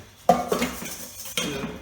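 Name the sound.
whisking eggs with white wine vinegar in a bowl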